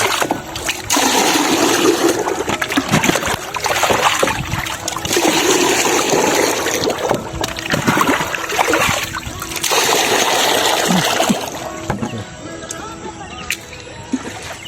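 Water splashes and sloshes in bursts as fertilizer solution is stirred for young eggplant plants, rhythmic churning close by with pauses between strokes, tapering off near the end.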